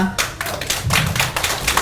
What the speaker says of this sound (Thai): พวกเราขอเสียงปรบมือให้พี่วีหน่อยนะคะ